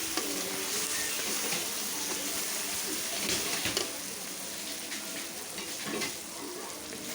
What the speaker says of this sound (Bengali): ভালো করে কষিয়ে নিচ্ছি, না হলে খেতে ভালো লাগে না।